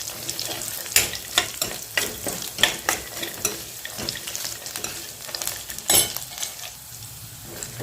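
Roasted peanuts fry in hot oil with a steady sizzle, broken by repeated sharp scrapes and clinks as a spoon stirs them around the pan, close and fairly loud.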